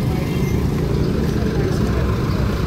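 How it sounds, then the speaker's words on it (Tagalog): Heavy road traffic on a busy street in Panacan, Davao City, a dense, loud, continuous rumble of cars and buses close by, with faint voices mixed into the din. "Kasi grabe yung traffic talaga dito"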